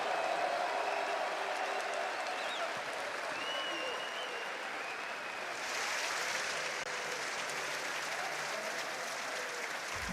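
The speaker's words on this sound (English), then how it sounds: "Un tonnerre d'applaudissements, s'il vous plaît." Sustained crowd applause and cheering fills a large arena at the Call of Duty Major IV grand final in Paris, OpTic Texas versus LA Thieves, loud and continuous throughout with a brief swell midway.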